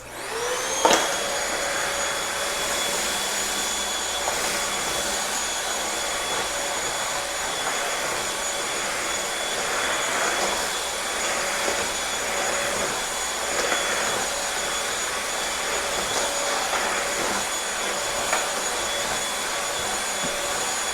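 Bissell Featherweight vacuum cleaner runs over carpet with a steady, even whir that continues throughout, joined by a brief sharp click near the start.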